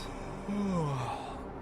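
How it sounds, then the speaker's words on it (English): A truck driver character in a trucking game gives a single drawn-out yawn, a soft breathy voice that slides slowly downward in pitch over about half a second, set against a quiet, steady engine hum. "How is my guy yawning already?"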